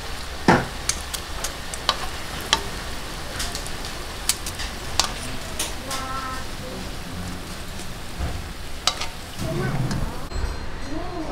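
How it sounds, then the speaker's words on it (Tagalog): Kamote cheese turon deep frying in hot oil, a steady crackling sizzle with scattered sharp pops running throughout, fairly close and moderately loud, with no talking. "prituhin lang po natin lahat"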